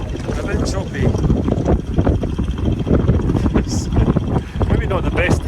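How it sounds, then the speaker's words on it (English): Wind buffets the microphone in a steady, rough rumble, with light splashing and knocking mixed in. "It's a bit windy"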